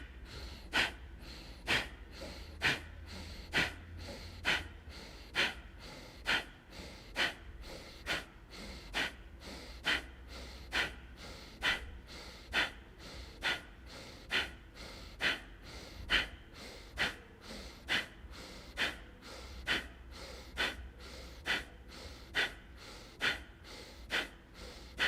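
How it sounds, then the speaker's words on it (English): Ujjayi breathing during a vinyasa yoga session, heard as a steady series of about thirty sharp, regular breath pulses roughly every three-quarters of a second, close and fairly loud, with no talking. "Ujjayi breathing."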